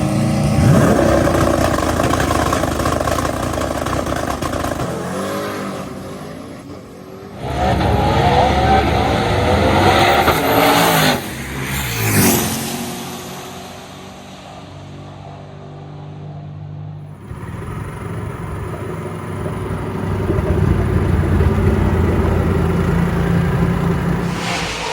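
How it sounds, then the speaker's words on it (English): A manual-transmission street car launches down a drag strip, its engine roaring loud and close, climbing through revs with audible gear changes, then fading before another loud run of engine noise. "we got Marcus for the streetcar shootout. Only stick car that I know of that's in the shootout"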